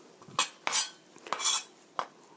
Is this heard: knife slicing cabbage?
yes